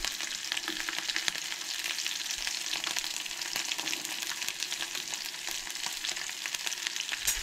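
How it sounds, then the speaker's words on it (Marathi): Chilli, ginger and garlic frying in oil, a dense, even crackling sizzle throughout, close and moderately loud, with no talking. "पयलीं मिरसांग, आलें आनी लसूण एड केला आनी तें बरें भाजून घेवप"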